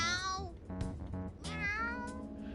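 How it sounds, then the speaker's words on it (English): A cat in the Persona 5 Strikers video game meows repeatedly, giving several drawn-out, tonal cries in quick succession. The meows are loud and close and fill the whole clip. "That sure is a noisy cat."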